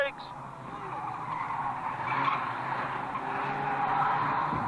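Vintage racing cars scrabble and skid through a bottom corner in close battle, tires squealing over a steady engine roar heard from a distance, with commentary running over the top.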